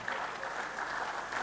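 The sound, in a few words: audience clapping for Engineer Amana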